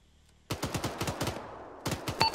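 Sustained automatic gunfire in Arma 3, rounds sprayed into a smoke screen after a gun emplacement is cleared: a brief quiet lead-in, then rapid loud bursts of evenly spaced shots, a short pause, and another burst, close and punchy.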